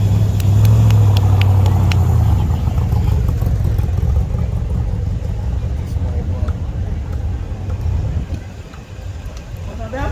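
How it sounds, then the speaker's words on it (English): A car with a 327 engine and side pipes runs loudly nearby, a deep rumbling exhaust that swells early then settles into a steady drone, with people talking over it. "This has got the side pipes, makes lots of good noise."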